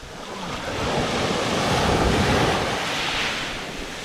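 Waves breaking on a beach in Sardinia, a continuous loud wash of surf swelling and receding, heard up close with some wind buffeting the microphone.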